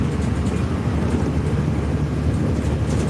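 Steady, loud low rumble and road drone inside a moving MSRTC 'Lal Pari' state transport bus, continuous throughout with no talking.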